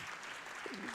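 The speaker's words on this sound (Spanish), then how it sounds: "podéis aplaudir" Audience applause at a sports awards gala, a brief continuous patter of clapping with a faint voice or tone rising at the end.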